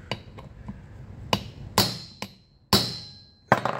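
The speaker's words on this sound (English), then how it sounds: "you can give this thing a few good smacks with a hammer" Sharp hammer blows strike a metal part of a Stihl MS390 chainsaw, about six hits at uneven intervals, some light taps and several loud ringing smacks.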